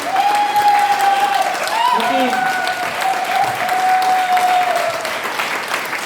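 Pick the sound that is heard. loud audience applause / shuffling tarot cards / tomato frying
loud audience applause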